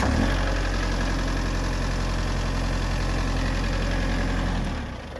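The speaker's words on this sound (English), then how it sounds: "this is the L4701 from Kubota" A Kubota L4701 tractor diesel engine idles steadily and loudly up close, a low rumbling drone with a faint knock, easing off slightly at the very end.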